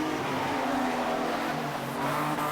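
Street sedan race cars roar through the hairpin at Gympie Speedway, a dense, steady wall of engine noise from several cars bunched together, loud and continuous with no break.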